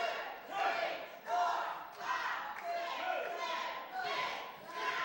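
A wrestling crowd roars in rhythmic surges behind Devin Davis as he throws corner punches, chanting along with each blow in a loud, echoing arena.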